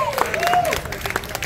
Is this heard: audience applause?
yes